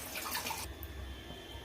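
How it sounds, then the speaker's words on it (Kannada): Water poured into a steel mixer jar in a home kitchen, a brief loud splashing rush that cuts off abruptly, leaving a quiet hum. "ಇವಾಗ ಇದು ಮಿಕ್ಸಿ ಜಾರ್ಗೆ ನಾನು ನೀರು ಹಾಕ್ಬಿಟ್ಟು"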